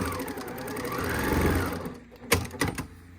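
A domestic sewing machine stitches across the corner of a placemat fabric for a boxed bag, running steadily and loud for about two seconds before stopping, followed by a couple of sharp clunks and handling noises.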